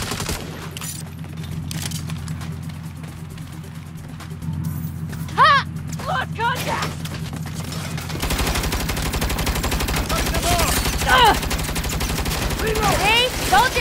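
A turret machine gun in the video game Saints Row fires in long, sustained rapid bursts, loud and continuous, while voices speak over the gunfire.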